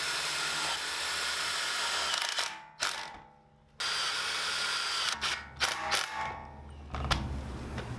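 A power drill drives self-tapping screws into a metal trash can, giving close, loud whirring bursts broken by short gaps and ratcheting clicks, with no voices.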